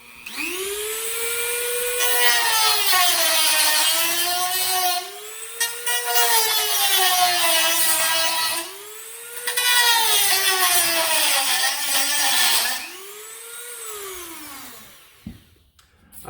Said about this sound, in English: I'm trying not to use too much of the blade or the Dremel right now